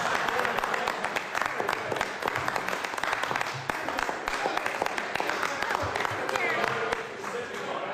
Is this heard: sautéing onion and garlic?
no